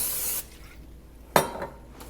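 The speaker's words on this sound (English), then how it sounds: "I'm going to spray my hands with a little bit of cooking spray" Cooking spray hissing from a can onto hands during dessert bar prep, a loud steady spray at first, then a second short, sharp burst after a pause.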